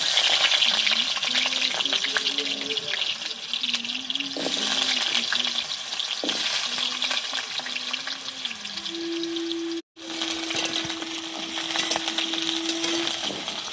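Potatoes fry in a pan with a constant close sizzle and occasional stirring scrapes. A voice talks over the frying, and the noise cuts out for a brief moment before resuming.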